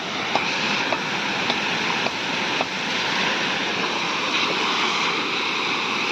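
Water gushes from a broken Narmada pipeline outdoors: a loud, steady roar of rushing water runs throughout, with a few faint knocks on top and no talking.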